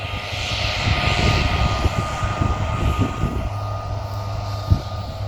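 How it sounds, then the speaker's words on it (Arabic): A farm irrigation pump motor drones steadily throughout, loud and continuous, with a brief thump near the end. "ده صوت الماتور، الراجل بيرش"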